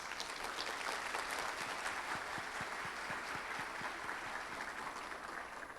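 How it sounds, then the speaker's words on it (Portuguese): Audience applause at the opening ceremony of a conference, a soft, even wash of many hands clapping heard from a distance, steady throughout. "eu peço, então, uma salva de palmas"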